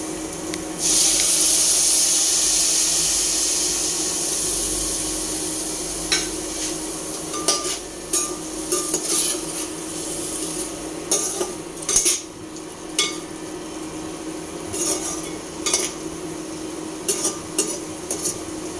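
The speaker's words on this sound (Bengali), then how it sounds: "এখন এই মশলাটা আমি দিয়ে দিচ্ছি সয়াবিনের মধ্যে" Spice paste sizzling as it is stirred into soybeans in a pan, a bright hiss at first settling into scattered scraping and clinking of a spoon against metal.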